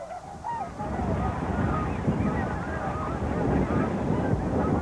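Waterbirds such as swans and coots honk on a lake, a scattered chorus of calls over steady wind noise and water, moderately distant and continuous.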